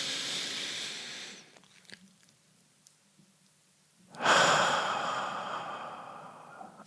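One person takes a long, deep breath, a soft hissing exhale that fades into near silence, then a loud, close inhale that trails off slowly.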